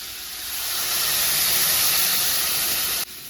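Mustard paste goes into a hot pan and sets off a loud, steady steam-like sizzle that swells over a second, holds, then drops off sharply near the end. No voices.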